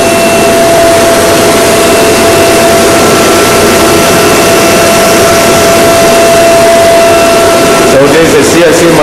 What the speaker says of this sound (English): So this is a CNC machine tool with tool changes.